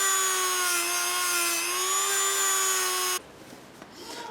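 Drill spinning a brass bristle wheel against an aluminium MR2 part, a loud steady whine with shifting tones for about three seconds before it cuts off abruptly to a quiet room.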